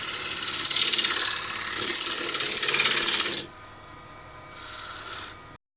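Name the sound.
woodturning tool cutting a spinning wooden bowl on lathe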